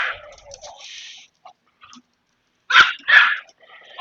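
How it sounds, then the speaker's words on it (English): Dogs barking indoors in a home, a few sharp barks and yelps at moderate distance with quieter whimpering sounds between them, fairly loud and without speech. "Jesus, Jesus Christ, is one of the dogs getting angry about it too?"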